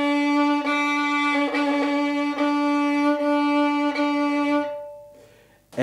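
A bowed string played with the bow drifted too far from the bridge toward the fingerboard gives a sustained, airy tone with soft bow-change pulses about every second. It fades out near the end.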